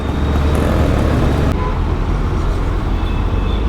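Heavy road traffic in Chennai rumbles loud and close, a dense wash of engines and tyre noise with a brief sharper hiss midway and faint horn-like tones, no voices.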